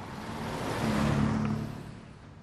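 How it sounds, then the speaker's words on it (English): Car engine hum swells as cars pass overhead on a bridge, building to a broad rumble and then fading away. "up on that bridge above me, there are all those noisy cars"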